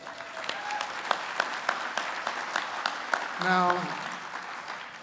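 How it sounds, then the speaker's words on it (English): Steady applause from a crowd fills the space, with a voice briefly speaking over the clapping. "you need to give yourselves a round of applause"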